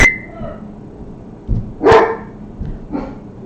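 Dogs barking indoors in a few separate loud barks spread over a few seconds, with quiet gaps between them.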